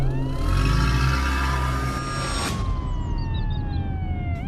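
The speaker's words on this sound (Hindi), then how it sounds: "तभी पुलिस की गाड़ी सुरेश के घर आती है।" A police car siren wails loudly as the vehicle arrives at a village house in a Hindi cartoon murder story. A steady rising-and-falling tone sits over a low engine rumble, then slides downward as it pulls in.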